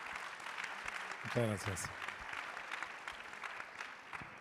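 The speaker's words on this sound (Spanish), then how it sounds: "Un aplauso también para él." Applause from an audience rolls on as a steady clatter of hands while someone briefly speaks over it, then the clapping continues alone.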